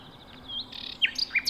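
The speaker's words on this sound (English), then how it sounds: "the bird that is often regarded as the ultimate songster, at least in the UK, the nightingale" A nightingale sings at Pulborough nature reserve in Sussex, giving short bright whistles and chirps, then a few sharp rising notes in quick succession, heard close and clear over a quiet, steady outdoor background.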